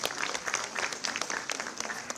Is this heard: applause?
yes